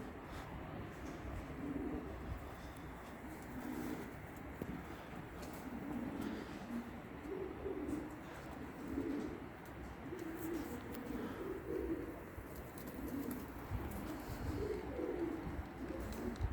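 Soft, low pigeon cooing repeats in a rolling rhythm over a dense, steady background hum, fairly faint and continuous.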